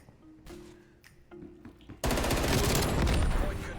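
Automatic gunfire in the video game Black Ops Cold War: a few faint shots and clicks at first, then a sudden loud, sustained burst of rapid fire filling the rest of the clip.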